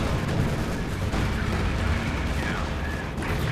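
Call-in artillery strike in Company of Heroes 2 rumbling as a dense, continuous wash of booms and battlefield noise, loud and unbroken throughout.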